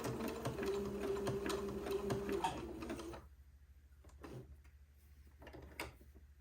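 A sewing machine stitches gathered lace to entredeux for a Christmas dress, running in a rapid, steady rattle for about three seconds before stopping, leaving faint handling noises.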